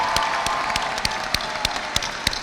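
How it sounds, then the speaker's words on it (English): Thinning applause from a high school graduation audience, a few distinct claps standing out over a steady murmur of crowd noise as the clapping winds down. "Let's give a big round of applause to our students"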